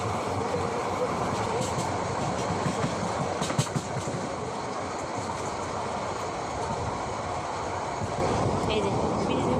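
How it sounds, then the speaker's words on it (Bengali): A train rumbles past steadily close by on the approach to the new Jamuna bridge in Bangladesh, a continuous loud rolling roar with a faint clatter throughout and no clear pauses. "দেখেন ওই যে ট্রেন যাচ্ছে"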